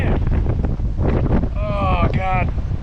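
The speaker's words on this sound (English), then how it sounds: "It's kind of windy today" Strong wind gusts through a dry canyon at Coyote Gulch near Escalante, Utah, roaring and buffeting close to the microphone throughout, while a voice talks over the rush partway through.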